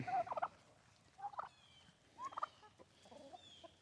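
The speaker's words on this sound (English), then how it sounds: "The hen, she's all riled up." A riled-up hen in a chicken coop after an owl got inside calls out in short, agitated bursts of clucking and squawks, fairly faint and spaced across a few seconds.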